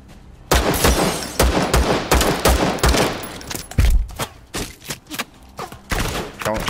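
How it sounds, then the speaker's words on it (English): Gunfire in the video game Firewall: rapid bursts of shots, loud and close, with heavier booming reports mixed in, and the firing keeps up through the clip. "there's a guy shooting in the window"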